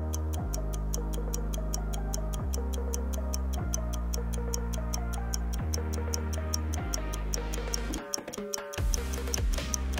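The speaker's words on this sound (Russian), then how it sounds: "Это часы." A clock ticks steadily and evenly, each crisp tick close and distinct, over a soft musical backdrop that continues beneath it.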